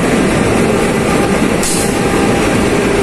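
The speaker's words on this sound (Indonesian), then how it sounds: "Kayaknya yang masuk itu kereta api Kertajaya deh" The Kertajaya passenger train from Surabaya Pasar Turi rolls into a station, a loud, continuous rumble of wheels and carriages with a brief hiss midway and no talking.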